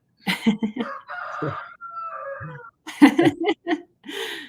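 A rooster crows near the microphone, a drawn-out call with wavering tones, set between stretches of close conversational talk.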